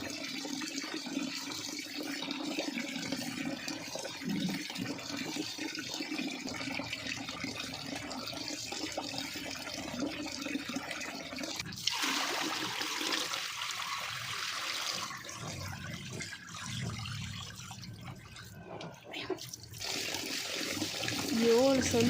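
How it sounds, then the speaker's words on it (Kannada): Water running and splashing as finger millet (ragi) is washed in a container, a steady low trickle and gush near at hand, with a voice speaking over it. "ನೀರು ಬಿಟ್ಟಾಗ ರಾಗಿ ನೀರಲ್ಲಿ ಕಾಣಬೇಕು, ಆ ಥರ ತೊಳಿಬೇಕು ನೋಡಿ"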